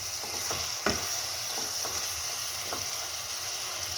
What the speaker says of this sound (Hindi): अब हम क्या करेंगे, इसको थोड़ा सा और भूनेंगे